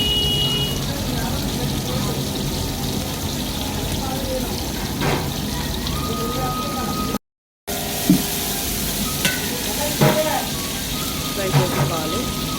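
Onions and bay leaf fry in a pan for chicken biryani, a steady hissing sizzle throughout with a short break, a few clinks of utensils and someone talking over it.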